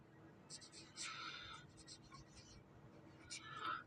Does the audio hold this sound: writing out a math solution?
yes